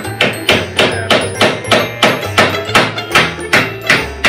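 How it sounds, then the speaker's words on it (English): A hammer taps metal on a Polaris RZR Turbo roll cage in a steady, even rhythm, about two sharp strikes per second, loud and close, with no talking. "just use a little tap."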